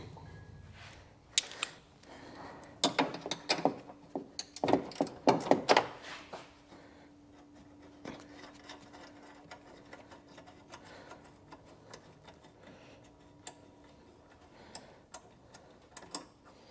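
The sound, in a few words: loosening a hose clamp on a WRX Perrin intake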